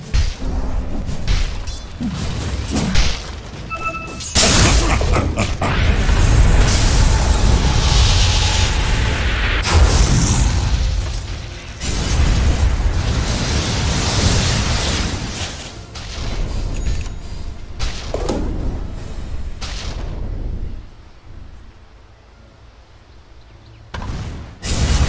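Heavy booms, whooshes and impact hits of a tower assault in Dota 2, dense and loud for most of the stretch, easing into quieter gaps near the end before surging again.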